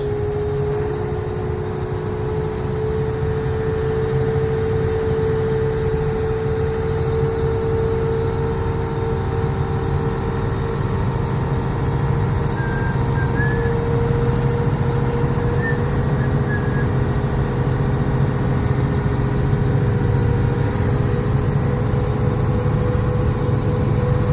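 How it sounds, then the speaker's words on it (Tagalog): Steady low engine drone of a Komatsu HM400 rock truck being driven at a mine, a continuous heavy hum with a constant tone running throughout, loud and close with no talk. "Guys, driving a big truck."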